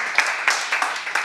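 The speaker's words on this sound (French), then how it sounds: "on peut applaudir nos brillantes candidates" Studio audience on a French radio comedy show applauding the contestants, close, loud claps in a few uneven bursts, each with a sharp onset and a brief decay.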